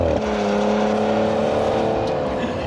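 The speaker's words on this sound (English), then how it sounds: "I'm gonna do a launch control." A Porsche Macan S held at launch control, its engine droning loud and steady with a sustained revving tone close by, with no voices.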